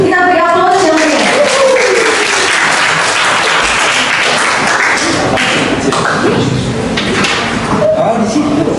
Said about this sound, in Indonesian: Kita beri aplaus yang meriah.